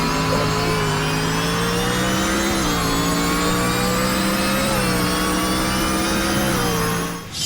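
A car in the Roblox game Greenville revs hard with a loud transmission. The continuous engine drone steps down in pitch at two gear shifts and carries on without any talking.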